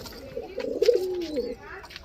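A green crested pigeon from an old bloodline coos in a single drawn-out call at close range, with a voice talking faintly around it.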